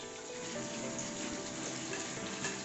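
Tap water runs steadily into a kitchen sink as dishes are washed one-handed, a continuous close, even rushing hiss with faint clinks underneath.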